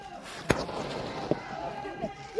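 A firecracker bursts with one sharp crack, followed by a smaller pop a moment later, set against outdoor background noise and bustle.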